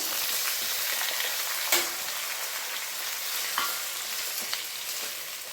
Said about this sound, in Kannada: ಈಗ ನಾನು ಕಟ್ ಮಾಡಿ ಎತ್ತಿಟ್ಕೊಂಡಿರೋಂಥ ಟೊಮೆಟೊನ ಹಾಕೊತಾ ಇದ್ದೇನೆ